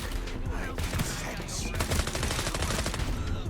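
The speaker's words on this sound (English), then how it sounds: "did you just see how useless the shotgun was right there?" Shotgun fire in the video game FragPunk: a dense, continuous stretch of gunfire with overlapping shots and impacts, loud and close, filling the whole stretch.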